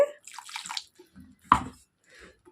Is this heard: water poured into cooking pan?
yes